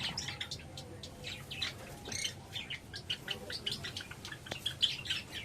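Java sparrows in a breeding colony chirping and squawking continuously, a dense, faint flutter of small overlapping calls with occasional sharper tweets.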